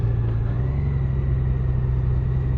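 Honda Goldwing DCT motorcycle engine under way, a steady loud low rumble with wind noise, constant and unbroken with no talk.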